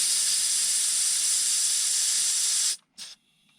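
Compressed air hisses loudly and steadily from a semi truck seat's air line, then cuts off abruptly with a brief second burst before near silence.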